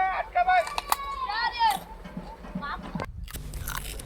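Crisp crunching bites and chewing of a raw, sweet village carrot, close and loud in short bursts, with a person talking and higher voices in between.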